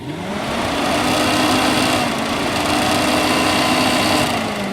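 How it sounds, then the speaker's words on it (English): Two electric radiator cooling fans on a 1989 Jeep XJ run with the ignition off, a steady, loud, close whirring hum with a slight pitch rise as they spin up, continuous for several seconds without speech. "Now both fans work with the ignition off."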